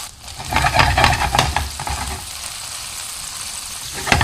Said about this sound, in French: je les dépose dans la poêle avec le beurre